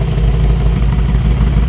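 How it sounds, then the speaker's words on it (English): A Mercedes-AMG G63 exhaust in Sport Plus mode rumbles steadily and loudly at close range, a deep continuous drone with no talking over it. "So you just heard the exhaust get louder"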